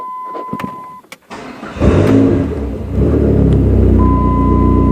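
A 2004 SRT-4 with an electrical fault cranks and fires up, a steady warning chime sounding before the engine catches into a loud, close, rumbling idle that holds steady, the chime returning over it.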